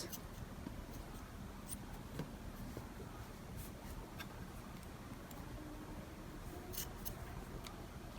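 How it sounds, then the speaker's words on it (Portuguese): Blunt scissors snip repeatedly through a thick crochet yarn tassel, producing faint, irregular clicking cuts over a low steady background. "A minha tesoura tá um pouco cega para eu fazer o corte de uma vez."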